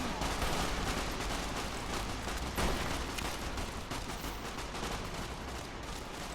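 Dense gunfire during a fight with hostile NCR soldiers in Fallout New Vegas, continuous rapid shots and bursts rattling throughout, with one sharper crack near the middle.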